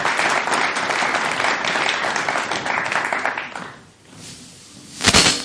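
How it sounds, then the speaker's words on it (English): An audience at an evening education symposium gives a round of applause, dense sustained clapping that fades away after a few seconds, followed by a single sharp knock or thud. "So give them a round of applause,"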